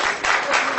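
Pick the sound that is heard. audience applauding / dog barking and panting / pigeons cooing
audience applauding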